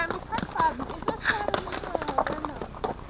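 A newly acquired mare's hooves clip-clop on a ride along a rural track with friends, giving a quick, close, rhythmic patter of hoofbeats with faint voices in the background.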